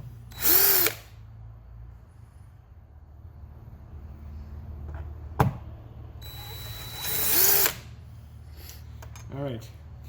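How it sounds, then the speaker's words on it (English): A power drill makes pilot holes in the roof of a 2019 Chevrolet Colorado ZR2 crew cab pickup: two short, loud whirring bursts separated by a quiet stretch with a single sharp click between them, and no talking. "I'm just going to make my 3 points in the roof where we're going to be drilling through."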